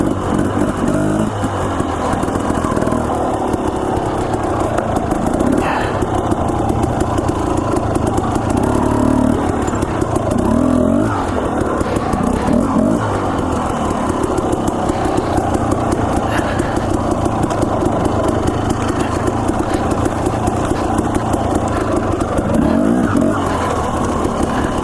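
A dirt bike climbs steep, rocky Idaho trails, its engine roaring loud and close without a break, rising and falling with the throttle over a constant rumble.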